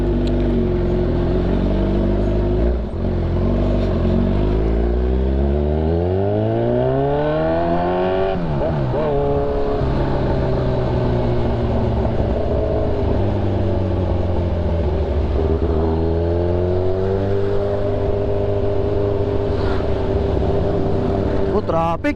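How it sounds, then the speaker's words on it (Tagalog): Heavy road traffic rolls past a Kawasaki Z1000 R motorcycle, with loud continuous engine drone and rising and falling revs from nearby vehicles. Someone talks over it. "Grabe yung traffic oh."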